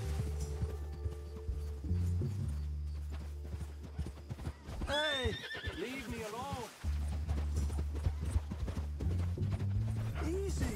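A horse in the video game Red Dead Redemption 2 neighs loudly in a long, wavering whinny, with clip-clopping hooves close by and someone shouting over the scene.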